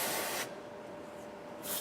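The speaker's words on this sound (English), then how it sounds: "spray out both sides of the sensor, one where the cutout is" Two short bursts of spray from a can aimed at the ceiling-mounted sensor of an ICS Auto Sentry unit, each a loud close hiss separated by a brief quiet gap.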